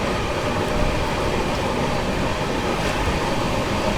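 The 22222 CR Rajdhani Express overtaking near Manmad Junction, a loud, continuous roar of rolling wagons with steady rail rumble and faint clatter throughout.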